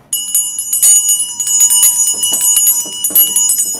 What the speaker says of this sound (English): Let's have a bell.